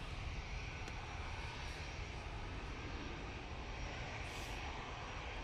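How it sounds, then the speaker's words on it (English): A Ryanair Boeing 737 MAX 8 airliner at Manchester Airport gives a steady, broad roar of jet engines, constant and fairly distant, with no talk over it. "Ryanair 737 MAX 8."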